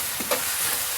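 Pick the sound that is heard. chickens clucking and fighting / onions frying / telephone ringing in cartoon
onions frying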